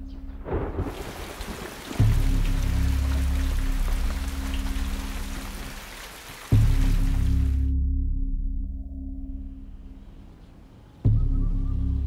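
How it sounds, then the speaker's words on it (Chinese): Rain sets in as the weather turns, a steady, broad hiss of falling water over deep, swelling musical tones that rise in three surges, then thins out and stops partway through. "下雨了"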